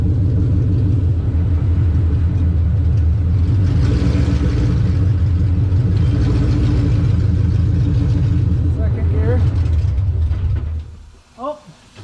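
A car engine runs in first gear, a loud close rumble with steady rhythmic pulsing that holds for about eleven seconds before cutting out abruptly; a voice is heard briefly at the very end.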